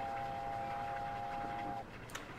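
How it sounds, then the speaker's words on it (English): Steam locomotive whistle in Train Simulator 2020 sounds as one long, steady, fairly faint tone over a low rolling train rumble, then cuts off, leaving a brief click as the rumble continues. "Oh, look, another train. I'll give this one a whistle."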